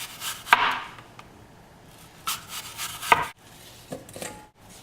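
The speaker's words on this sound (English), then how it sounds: "I'm gonna chop them nice and thin so that I can layer them on my pizza." A knife slices apples thin on a cutting board in a handful of separate crisp chops with gaps between them, heard close up with no speech.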